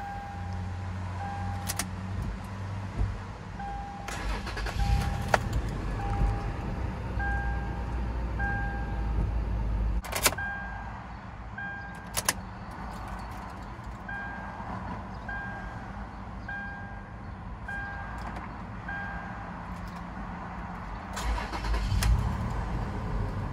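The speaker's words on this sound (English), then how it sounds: "let's do a startup of the 4Runner" A 2016 Toyota 4Runner SR5 with a 4-liter V6 cranks and starts, then settles into a low idle, with a repeating dashboard chime, a few sharp clicks and a later swell of engine noise.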